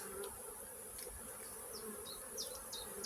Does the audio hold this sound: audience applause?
no